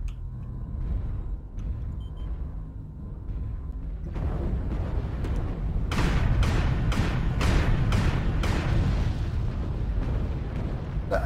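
Weapon fire and explosions in a mech combat video game: a low rumble gives way to a series of heavy booming blasts and cannon shots, loud and rapid, overlapping one another for several seconds.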